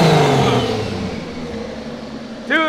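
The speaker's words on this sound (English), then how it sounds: "Give it a good old Jay-Z rev." A four-door Toyota Supra's engine revs hard, a loud rising roar that decays into a fading rumble, then a short sharp blip of throttle at the end; a voice is briefly heard.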